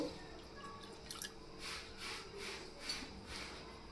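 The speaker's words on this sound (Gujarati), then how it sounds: "તે જ વાટકામાં આપણે અડધું ભરી અને પાણી લઈ લેશું" Soft trickling and dripping of water into a small bowl, a few gentle splashy bursts over quiet background hum.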